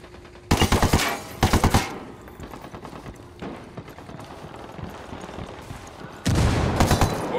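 Gunfire in Ghost Recon Wildlands: two loud, close bursts of rapid automatic fire early on, then quieter scattered shots and rumble, ending with another sustained loud burst.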